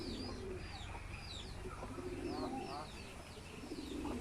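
Homing pigeons cooing softly close by in a loft at dusk, repeated low coos mixed with chirps from other birds over a continuous hiss of background noise.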